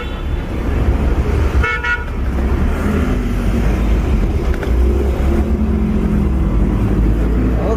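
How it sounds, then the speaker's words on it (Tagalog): Heavy Monday-night road traffic heard from inside a vehicle, a steady loud engine and road rumble with a short car horn toot near the start and no talking. "Sobrang traffic."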